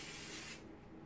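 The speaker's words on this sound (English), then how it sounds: "Let me just spray this a little," Cooking spray misted over chicken and sweet potato in an air fryer basket, a short soft hiss that stops about halfway, leaving quiet room tone.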